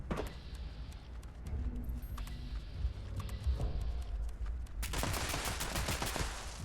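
Rapid gunfire from assorted weapons cutting down beefy Thrashers in Fallout 76, a dense volley of shots that grows louder and thicker toward the end, with no talking.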